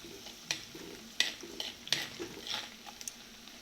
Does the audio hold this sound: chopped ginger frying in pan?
yes